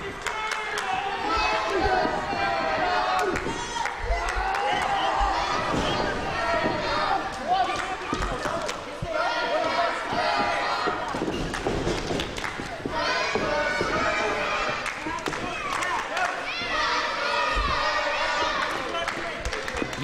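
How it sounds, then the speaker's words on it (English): Wrestling crowd at the Hanford Civic Auditorium during a Lucha Xtreme tag match, a loud, continuous roar of cheering and shouting with thuds from the ring and commentary running over it throughout. "You can hear the crowd here at the Hanford Civic Auditorium getting behind their favorites."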